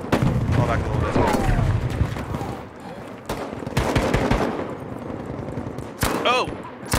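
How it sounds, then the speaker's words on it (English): Heavy crossfire in a Battlefield match, with sharp gunshot bursts and bangs firing in clusters under and between excited voices talking throughout. "we're gonna get caught in a huge crossfire"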